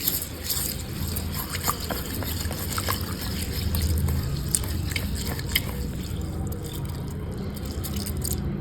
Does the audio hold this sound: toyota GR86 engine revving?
no